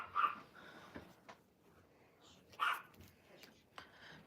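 A dog barks two faint, distant single barks a few seconds apart, indoors at night with rain possible, against quiet room tone and soft background noises.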